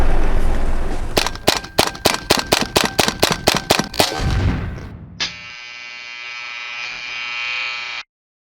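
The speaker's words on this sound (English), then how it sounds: "we're going to take a look at the operation of the sizer and how simple it is" Vortex 7500 bullet sizer running, about a dozen sharp, evenly spaced mechanical clacks, then a low thud and a steady buzzing hum for a few seconds before it stops abruptly, with no one talking.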